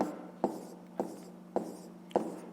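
A pen taps and scratches on paper while a math exercise is written out, with four short, evenly spaced strokes in a quiet room.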